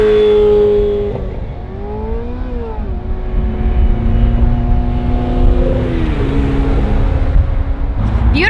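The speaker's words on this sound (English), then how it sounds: "oh, that sounds like an F1 car" A Ferrari California 30 revs hard, its engine note climbing and dropping in several sweeping pitch changes over about eight seconds, loud and close, with a smooth high-pitched whine layered over the deeper exhaust.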